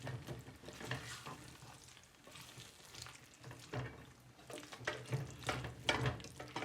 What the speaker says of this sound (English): Leave it to fry for another 2 minutes.